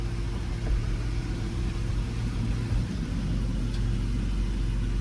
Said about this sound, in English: you can kind of hear the fuel pump permanently stuck on